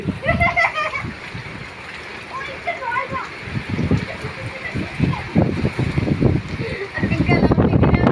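Rainwater splashes and sloshes nearby during a heavy storm with flooding in Delhi, with gusty wind buffeting the microphone and people talking loudly over the churning water.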